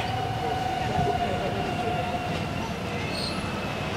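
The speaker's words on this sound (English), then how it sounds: "The 3C loop train arriving on platform number one." A metro loop train pulls into a platform at Jolimont station, a steady rumble of wheels on rails with faint high squeals over a crowded platform, with a voice speaking briefly.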